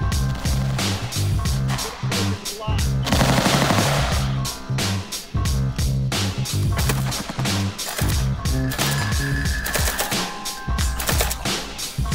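Rapid gunfire at steel targets on an outdoor range during a large group shoot: a dense, continuous clatter of overlapping shots and metallic hits, loud and close.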